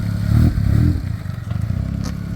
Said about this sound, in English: Let's let these cars go by here.